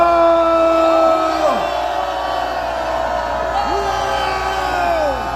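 A huge crowd of protesters packs a closed ten-lane boulevard outside a court, cheering and shouting in loud swelling waves, with whooping cries rising over a continuous roar of many voices.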